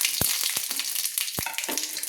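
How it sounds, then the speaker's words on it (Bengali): Whole spices (cinnamon, mace, peppercorns, cardamom, cumin and bay leaves) tempering in hot oil, a bright steady sizzle broken by a few sharp pops and clicks from the pan. "তো ফোড়নের জন্য আমি এগুলো একসঙ্গে আমি দিয়ে দিলাম।"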